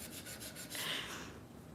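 A nail file rubs across fingernails in short, quick back-and-forth strokes, a soft rhythmic rasp close to the microphone that turns into one longer scraping pass.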